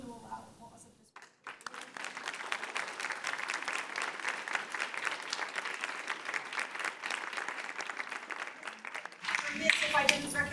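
An audience at a public panel event in a library breaks into sustained applause for about eight seconds, starting after talk and followed by more speech.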